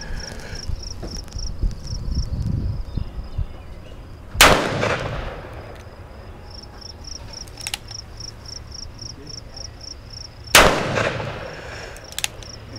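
A Ruger Vaquero revolver fires at a target about 20 feet away, with two loud, sharp outdoor shots several seconds apart over a steady chirping of crickets.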